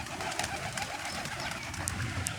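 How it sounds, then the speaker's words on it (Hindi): Pigeons coo softly close by amid a dense, steady outdoor rustle, with a couple of faint high chirps near the end and no talking. "तो कुछ कबूतर अभी उतरते हैं ना"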